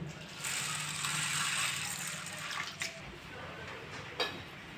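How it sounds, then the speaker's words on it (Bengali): Sago pearls being rinsed in a bowl of water, a steady wash of swishing and trickling liquid with a couple of brief splashes near the end, close and moderately loud. "সাবুটা আমি ঢেলে নেব ভালো করে ধুয়ে নেব"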